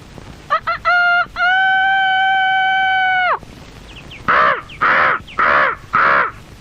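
A crow gives four loud, close caws in a quick, evenly spaced series, following a few short tonal blips and a long sustained tone in a household setting.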